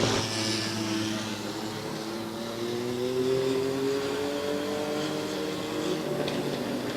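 Race trucks accelerate around the Midvale Speedway oval, a steady loud engine roar with rising and falling tones that continues throughout with no pauses and no talk.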